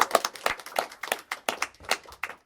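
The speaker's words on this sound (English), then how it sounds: "take a round of applause" Applause from a small audience after a literary society presentation, distinct individual hand claps in a close, uneven burst that is fairly quiet and lasts the whole moment.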